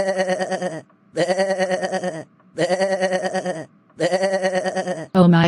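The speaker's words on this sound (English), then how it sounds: "How dare you make a goat sound effect in front of me?" A goat bleat sound effect plays four times in a row, each long wavering bleat separated by a short pause, loud and close, ending with a brief different sound.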